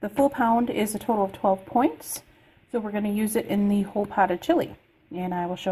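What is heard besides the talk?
No distinct noise like a dog, phone or traffic.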